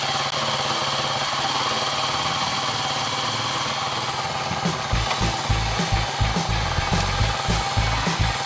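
A Kawasaki KLR 250 motorcycle engine running with a freshly fitted Keihin CVK carburetor, a steady mid-pitched drone that turns into a louder, pulsing throb partway through, with no one speaking.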